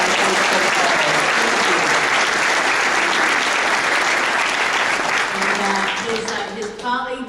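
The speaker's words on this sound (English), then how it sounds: "let's give him a round of applause" An audience at a Chamber South military event claps loudly and steadily for several seconds, the applause thinning out at the end as a voice starts to speak.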